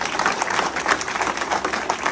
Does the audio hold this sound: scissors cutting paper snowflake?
no